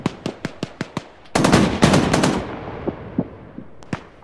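Bursts of machine gun fire during combat at a bridge: a rapid string of loud close shots, then a dense sustained volley, then scattered single shots trailing off, with no voices.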